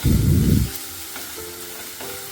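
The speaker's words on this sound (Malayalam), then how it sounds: "അതിലേക്ക് ബാക്കിയിരിക്കുന്ന ഇഞ്ചിയും വെളുത്തുള്ളിയും പച്ചമുളകും കൂടെ ചേർത്ത് വഴറ്റിയിട്ട് സവോള ചേർത്ത് കൊടുക്കുക" Ginger, garlic and green chillies hit hot oil for Kerala-style chicken biryani, a loud burst of sizzling for the first moment that quickly drops to a quieter simmer with light clinks.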